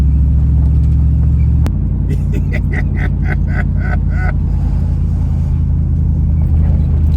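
A Chevy S10 truck engine with a mini spool turbo idles with a steady low rumble, joined after a sharp click by a brief burst of rhythmic ticking and clatter before settling back to a constant close drone.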